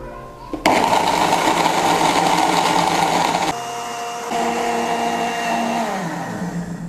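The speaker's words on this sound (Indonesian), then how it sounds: "Tutup dan blender dari kecepatan rendah ke kecepatan tinggi selama kurang lebih 3 menit." A blender whirs through almonds and water for almond milk, a loud motor roar that starts abruptly, then drops in pitch and spins down as the speed changes.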